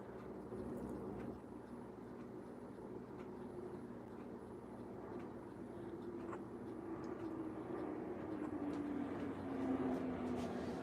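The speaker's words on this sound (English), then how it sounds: "there must be airplanes going over our house right now" Airplanes flying over a house, a steady distant low roar that slowly swells toward the end, with no talking.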